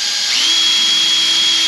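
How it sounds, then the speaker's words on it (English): A power drill bores a hole through the plastic of a 5-gallon bucket, a steady, loud high-pitched whine that holds without a break for under two seconds, close to the mic. "Drill a hole there, turn it around."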